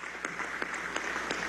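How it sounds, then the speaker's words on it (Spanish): An audience applauding at a televised government event, a steady wash of clapping with a few sharper individual claps, moderately distant and fairly quiet. "Mira, te aplaudimos bastante, María Fernanda."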